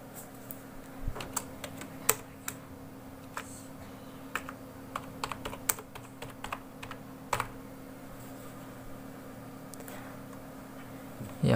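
A name being typed on a computer keyboard: sparse, irregular key clicks, close and fairly quiet, with pauses between short runs and no talking.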